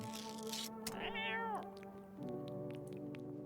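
A cat in a video game meows clearly, one long rising-and-falling meow after a brief sharper cry, set against a steady low hum of background game music.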